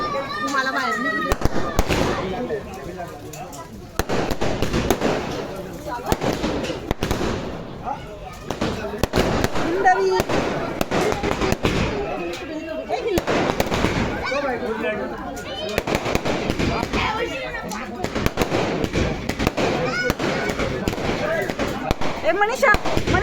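Firecrackers burst nonstop in a residential lane to welcome someone home after an election procession. Dense, sharp crackling and pops continue throughout while people talk and shout nearby.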